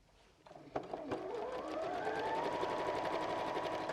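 A sewing machine runs a quarter-inch seam on an unlined fat quarter tote bag, starting with a few clicks and jolts before settling into a steady, rapid stitching whir close by.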